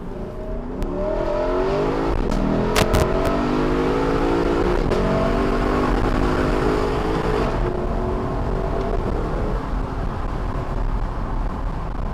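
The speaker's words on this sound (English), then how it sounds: "we'll start this acceleration Sport Plus. Go manual. Second gear. First gear." A 2021 Lexus LC500 convertible accelerates hard in Sport Plus with manual gear selection, its engine revving loudly and steadily up through the gears, close and continuous with no talking.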